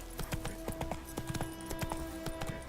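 Horse Roach's hooves clip-clop in a brisk, steady rhythm in The Witcher 3, sharp close hoofbeats repeating over a low ambient hum with no voices.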